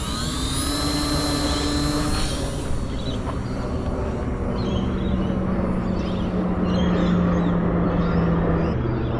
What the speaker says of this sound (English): I'm going to try the Mark II Canberra with a little MC1104 motor running 2S